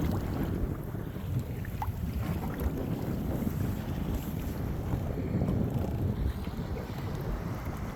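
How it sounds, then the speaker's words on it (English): Waves and strong wind surround a Native Titan 10.5 pedal-drive kayak on the Chesapeake Bay near Breezy Point, Maryland, on an overcast, windy day, with steady rumbling wind buffeting and water wash running throughout. "These are the waves."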